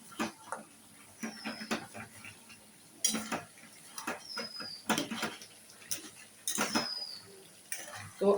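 Mutton being stirred with masala in a metal pan, a utensil scraping and clinking against the pan in irregular bursts, moderately close, with quiet background noise and occasional faint voices.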